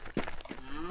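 A zombie cow in the Half-Life mod They Hunger gives a short, faint moo lasting about a second.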